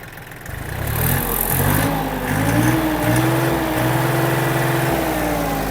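A Yanmar F-20 mini tractor's small engine runs close by and revs up, its pitch rising and then holding at a steady high idle.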